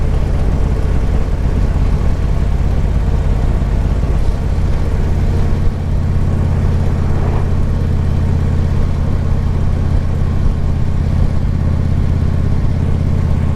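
A motorcycle cruising at speed, around 70 mph under 3,000 RPM, gives a steady low engine rumble mixed with heavy wind roar, loud and constant throughout with no voices.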